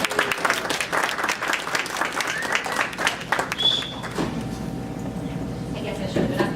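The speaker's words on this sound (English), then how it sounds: "everyone give a round of applause for Nicole Romero from the Termite Guy." Applause from a morning real estate gathering, a moderate crowd clapping for several seconds before tapering off, with murmured voices and room noise left underneath.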